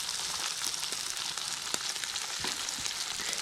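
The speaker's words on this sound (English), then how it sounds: "The onions cook fast too. That's why I put the onions on first." Onions sizzle in a pan alongside deer heart, a close, continuous crackling fry with dense popping and no voices.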